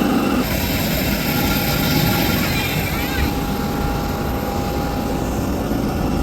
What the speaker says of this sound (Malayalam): അവിടെ ഒരു എൻജിൻ ഉണ്ട് ടൈലിൽ, അവിടെ ഭയങ്കര സൗണ്ട്